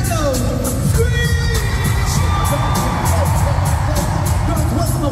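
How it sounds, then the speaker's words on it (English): A packed arena crowd at a concert in Rosemont, Illinois screams and cheers loudly and without a break, heard from the front row. "Chicago, scream!"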